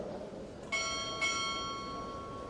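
Naval ceremony bell rung twice for an arriving chief: a pair of crisp, resonant strikes roughly half a second apart, ringing on and gradually dying away in a fairly quiet hall.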